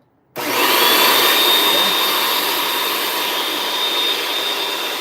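A Bissell 2X upright vacuum cleaner starts abruptly after a short silence and roars at a loud, steady pitch with a high whine, its suction poorly sealed, running on alone.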